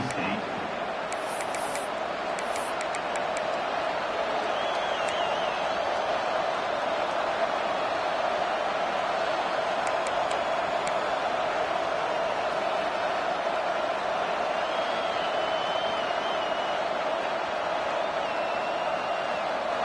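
Football stadium crowd at an NC State game roaring in a dense, continuous wash of cheering that holds steady for about twenty seconds, with faint whistles and shouts poking through.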